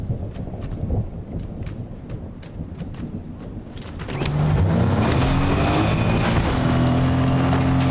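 A car in Fortnite starts up partway through, its engine rising and holding at a loud, steady drone with shifting pitch while driving, after a rumbling, stormy stretch of background noise.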